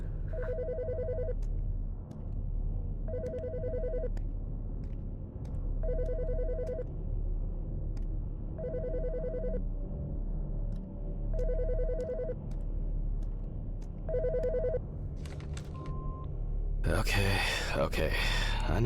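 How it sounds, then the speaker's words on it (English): Telephone ringing in repeated electronic double-tone bursts at an even pace, about seven rings, then picked up with a clatter as a voice begins talking. "The fucking phone."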